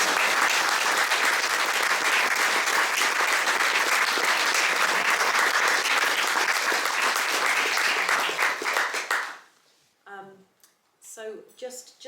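Audience at a book launch gives sustained, loud applause from many people, holding steady for about nine seconds before tapering off abruptly, followed by a brief spoken voice.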